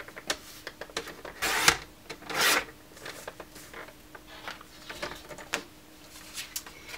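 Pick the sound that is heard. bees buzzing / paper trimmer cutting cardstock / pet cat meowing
paper trimmer cutting cardstock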